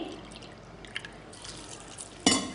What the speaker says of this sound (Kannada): ಇದಕ್ಕೀಗ ಒಂದು ಕಪ್ನಷ್ಟು ನೀರು ಹಾಕಿ